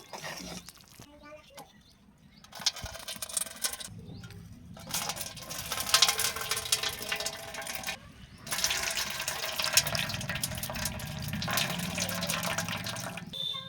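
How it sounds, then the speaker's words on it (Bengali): Water pours and splashes as boiled cauliflower is drained through a strainer in a home kitchen, a loud continuous rushing and trickling that runs in a few bursts, with a voice talking over it. "এবার বন্ধ করে এটা ছেঁকে নেব"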